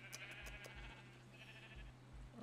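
Sheep bleat faintly on a small Minecraft sheep farm over a steady low background hum, with a couple of short high calls near the start.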